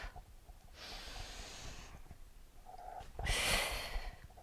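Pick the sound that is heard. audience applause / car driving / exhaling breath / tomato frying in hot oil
exhaling breath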